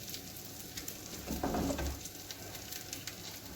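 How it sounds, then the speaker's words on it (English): An egg sizzles and crackles steadily in a frying pan, close up, with a brief louder scrape and hiss as it is flipped midway. "I'm going to flip this egg right over here."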